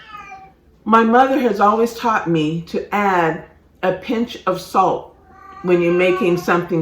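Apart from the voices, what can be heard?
cat meowing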